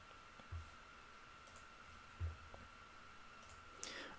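A computer mouse clicks twice, softly and close, while working in Enscape rendering software in an otherwise quiet room.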